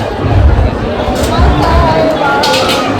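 A large, dense crowd waits in a Hanuman temple queue, a loud close hubbub of overlapping voices and shuffling with a constant low rumble throughout.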